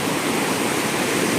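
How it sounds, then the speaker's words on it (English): River water rushes with heavy flow where a road is being built, a loud, broad, steady roar with no voices. "I don't think this much water flow can be redirected to that small canal."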